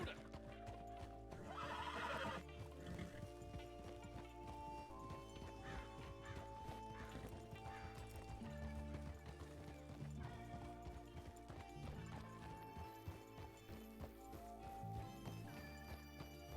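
Horse cantering in Red Dead Redemption 2 RedM roleplay, rhythmic hoofbeats with an occasional whinny under continuous game music, steady and moderately loud.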